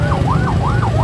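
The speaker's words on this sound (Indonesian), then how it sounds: "Di belakangnya ada ambulan pengaman." An ambulance siren wails in a rapid rising-and-falling pattern, loud and close, repeating steadily throughout, escorting a street demonstration outside a party headquarters.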